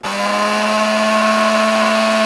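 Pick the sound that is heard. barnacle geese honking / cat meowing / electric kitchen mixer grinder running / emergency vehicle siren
electric kitchen mixer grinder running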